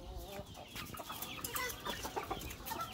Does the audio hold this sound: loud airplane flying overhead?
no